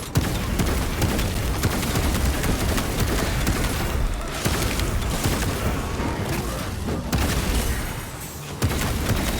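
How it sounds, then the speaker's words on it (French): Loud, sustained barrage of explosions and heavy gunfire in cooperative play of the video game Warhammer 40,000: Space Marine 2, with a grenade blast rumbling amid continuous booming combat noise. "Il a fait la grenade."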